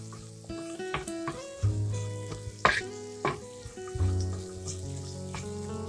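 Onions and potatoes fry in a pan with a soft, steady sizzle, broken by several close clinks and scrapes from stirring.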